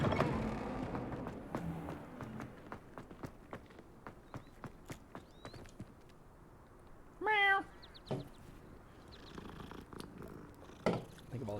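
A cat in the video game Hogwarts Legacy lets out one clear, drawn-out meow amid a steady patter of footsteps, with soft shorter cat sounds following afterward.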